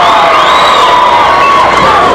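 A large rodeo crowd, mostly girls, screams and cheers in a loud, sustained roar of high-pitched shrieks and whoops.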